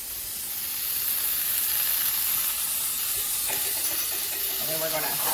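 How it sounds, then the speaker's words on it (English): Rice and garlic sautéing in a pan with a steady, close broadband sizzle and steamy hiss, running continuously throughout with a few faint clinks near the end. "we're going to saute that rice up with the garlic"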